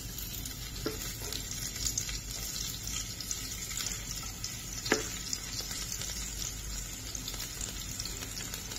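Garlic sizzling in hot oil in a pan while chitol fish is prepared, a steady close crackle with a few sharp pops and faint clinks of stirring.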